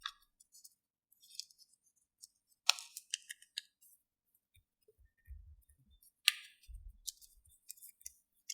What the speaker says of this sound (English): now what you need to do is you need to cut the points of your star